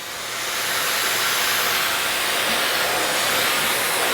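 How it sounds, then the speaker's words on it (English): A Miele Guard M1 parquet vacuum cleaner runs on a low suction setting, a steady loud broadband whoosh that swells in over the first half second and holds constant, with no speech. "When a vacuum is too powerful for its own good, this is what happens."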